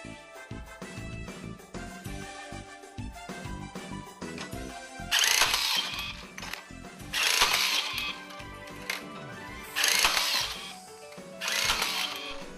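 Max automatic rebar tying tool working in bursts: quiet mechanical whirring and clicking, then four sharp, loud buzzing tie cycles roughly two seconds apart, close to the listener.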